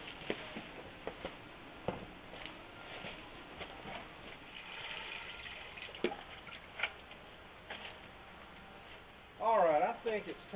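Water trickles and drips into a metal M38A1 Jeep gas tank being filled for electrolysis cleaning, with scattered close ticks and drops. A voice briefly speaks near the end.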